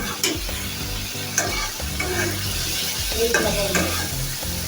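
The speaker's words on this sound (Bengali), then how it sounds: "মাছগুলো আমি ভালো করে নেড়ে ছেড়ে মশলা মাখিয়ে দিব" Poa fish coated in spices fries in a pan with a loud, close sizzle, punctuated by repeated scrapes and knocks of a spoon stirring and turning the pieces. No voices are heard.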